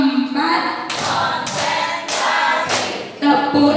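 A classroom clapping game brings sharp bursts of group hand claps, four of them evenly spaced about half a second apart, with chanting voices between the claps.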